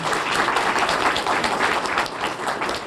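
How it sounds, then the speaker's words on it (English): Dense, steady applause from a conference audience fills the short stretch, a continuous wash of many hands clapping with no voices on top. "let's give them a round of applause as well"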